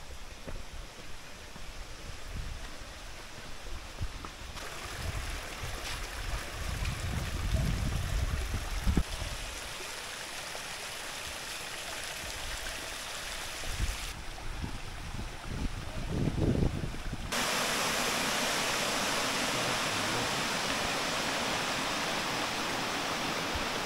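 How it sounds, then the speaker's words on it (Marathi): Steady rushing water from a waterfall on the Dalki river deep in a dense forest, a broad continuous wash that swells louder toward the end, with no voices. "धबधब्याचा आवाज ऐकू येतोय"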